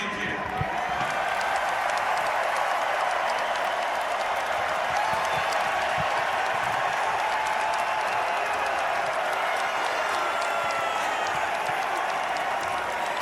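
Seattle fans in a large stadium crowd cheer and applaud after a Super Bowl win, a steady, dense wash of clapping and crowd noise sustained throughout at a moderate distance.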